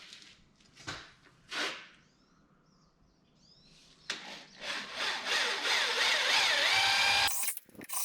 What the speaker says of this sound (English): we got to drill those out to 8 millimeters